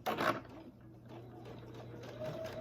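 A sewing machine stitches binding onto quilt fabric with a soft, steady hum and light mechanical whir, close by and fairly quiet, with a louder clunk at the start.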